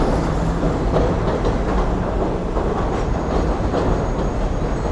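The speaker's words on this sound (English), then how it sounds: "sounds like we have a train pulling into the station right now" D line train on elevated tracks rumbling into the 50th Street station in Brooklyn, a steady loud roar of rolling wheels and rail noise filling the whole stretch without pause.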